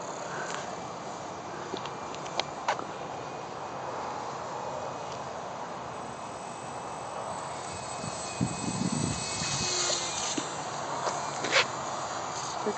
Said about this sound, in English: They're good little airplanes.